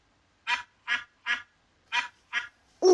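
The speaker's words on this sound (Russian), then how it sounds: "Утка." Five short, evenly spaced duck quacks stand alone and close, followed by a louder, higher cry at the very end, in a children's animal-sounds lesson.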